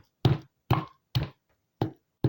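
Ogbono fruits pounded in a mortar to separate the flesh from the seeds, giving five heavy, dull thuds at a steady, unhurried pace, each loud and close with short silences between.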